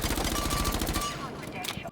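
Full-auto MP5 submachine gun fire in Rainbow Six Siege, a rapid, evenly spaced burst of loud shots for about a second, followed by a brief ringing tail and a faint clatter.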